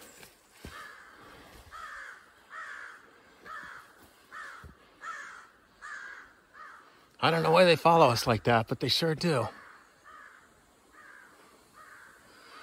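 Many crows caw repeatedly in a steady rhythm from nearby, with a louder, denser burst of calls midway, while a person talks over part of it.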